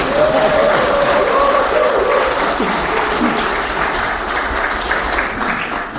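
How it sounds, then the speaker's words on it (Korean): Sustained audience applause fills a party policy meeting hall of the Gyeonggi Provincial Council, a dense steady wash of many hands clapping at close range, with a faint voice briefly rising over it. "박수를 한번 쳐야죠"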